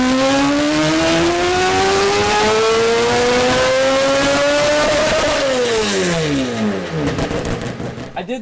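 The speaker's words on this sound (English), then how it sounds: "that might be the best sounding Supra I ever heard" Toyota Supra tuned toward an F1-style sound revs hard close up, pitch climbing steadily in a long rising wail before dropping off as the throttle closes.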